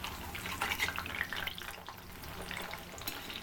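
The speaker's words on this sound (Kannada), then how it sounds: "ಇಲ್ಲಿ ಆಯಿಲ್ ಎಲ್ಲ ಬಿಸಿ ಆಗಿದೆ, ಇದರಿಂದ ಒಂದೊಂದು ತೆಗೆದು ಫ್ರೈ ಮಾಡೋಣ" Battered cauliflower pieces for gobi manchurian sizzle and crackle steadily in hot oil, close and fairly loud, with bursts of bubbling as pieces are dropped in and turned.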